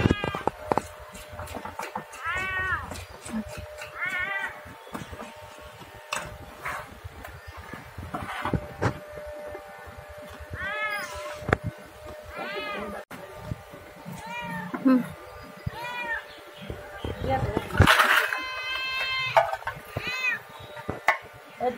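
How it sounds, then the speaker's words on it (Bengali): A cat meows repeatedly and insistently, several drawn-out calls close by, as it comes for fish being cut for cooking; a person speaks briefly between the calls. "মাছ দেখি বিড়ালটা খাওয়ার জন্য আগে আসে।"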